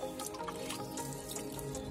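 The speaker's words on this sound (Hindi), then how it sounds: "तो मतलब अभी हम इस पर पानी डालेंगे।" Water is poured onto flowers planted in a recycled tire, a continuous splashing trickle with small drips, close and moderately loud.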